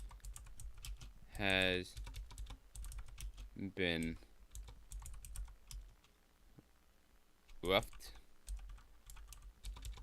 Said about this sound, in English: With this keyboard, I can't really type.